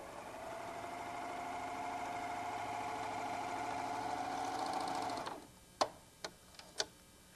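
A White Superlock 634D serger stitches a folded fabric tuck with a fast, steady mechanical hum for about five seconds, then stops, followed by a few sharp clicks and taps; quiet and close, no talk.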